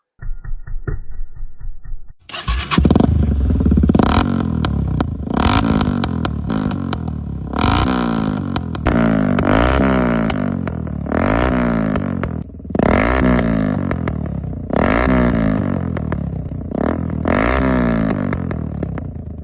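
After a brief quiet idle, a Tekken Pro 250 motorcycle with a custom performance exhaust bursts to life and revs repeatedly in loud, throaty waves, rising and falling with short pauses between.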